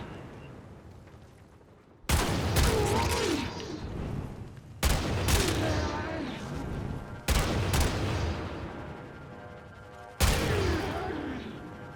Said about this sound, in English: So there's the Redeemer Prime without the abilities.